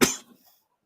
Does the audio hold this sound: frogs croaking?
no